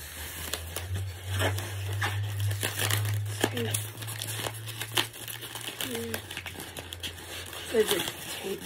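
Plastic and paper packaging crinkles and tears while a boxed statue is unboxed, with intermittent rustling bursts close by and someone talking over it.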